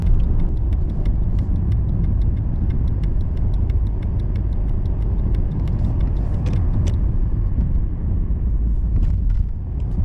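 A taxi car driving through Kyiv, a continuous loud low road rumble and engine drone from inside the cabin with faint ticking mechanical clicks throughout.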